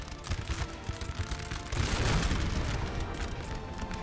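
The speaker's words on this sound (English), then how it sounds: "now I've got cannons firing from the walls as well" Cannons firing from fortress walls during a battle in the strategy game Napoleon: Total War, a steady rumble of booming shots and crackling musketry that swells into a louder dense barrage, heard at a moderate distance.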